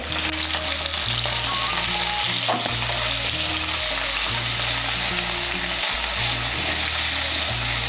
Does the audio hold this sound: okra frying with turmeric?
yes